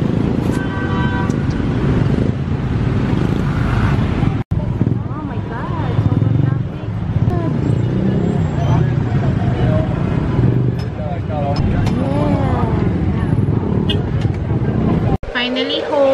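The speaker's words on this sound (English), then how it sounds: "Look, sobrang traffic." Heavy, stop-and-go road traffic in a crowded Philippine street, with a steady dense rumble of cars and buses, several short car horn toots and people talking over it throughout.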